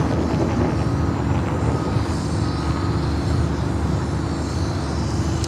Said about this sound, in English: That's Eva, Flight 5, heading back to Taipei in a 777 at 300ER, heading up here for a north side takeoff.